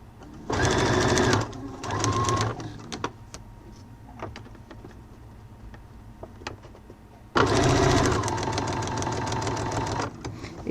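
Sewing machine stitching a wallet seam with a zipper runs in short close bursts, then stops through a quieter stretch of faint handling clicks before starting again for a longer steady run.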